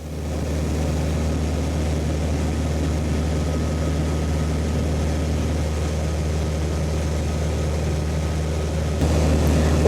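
Small propeller airplane cruising at about 2,000 feet over a school, its engine giving a steady, loud drone with a low hum that holds throughout and shifts slightly near the end.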